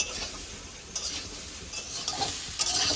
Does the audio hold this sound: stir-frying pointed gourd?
yes